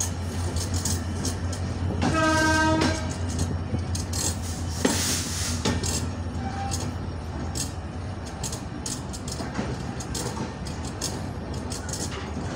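Panchagarh Express 794, hauled by locomotive 6639, rolls into Parbatipur Junction: a steady rail rumble with one loud horn blast near the start, then continuous wheel and carriage noise, with no voices.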